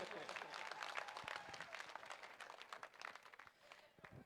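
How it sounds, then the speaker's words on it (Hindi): Applause from a crowd at a Hanuman Beniwal political rally in Sardarshahar, steady broadband clapping spread across the gathering and sustained throughout, fairly faint and distant, with a few scattered louder claps. "जोरदार तालियों से स्वागत करें।"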